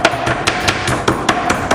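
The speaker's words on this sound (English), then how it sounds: "if you got one of these hammers, you can kind of flatten out the chicken for you a little bit." A meat hammer pounding chicken flat on a kitchen surface, a quick series of about nine sharp, evenly spaced thuds, close and loud, with no talking.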